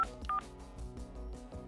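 Telephone dialing tones in the Minecraft video game play as a quick series of short electronic beeps, clear and alone, spaced a fraction of a second apart.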